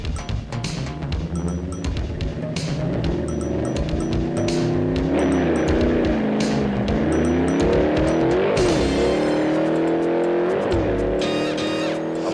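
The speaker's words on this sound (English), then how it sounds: "Dick handles his Hurst-equipped Olds Super Stock over the quarter mile like a veteran" A Hurst-equipped Oldsmobile Super Stock drag racing car at an NHRA Nationals event roars loudly and continuously down the quarter mile, its engine pitch climbing through gear changes with tire squeal and crowd-area noise around it.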